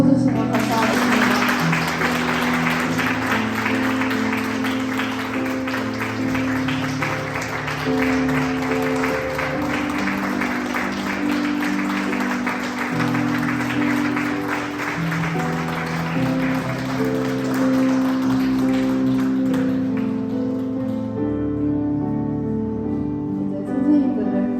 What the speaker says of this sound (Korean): 박수 쳐주시면 감사하겠습니다.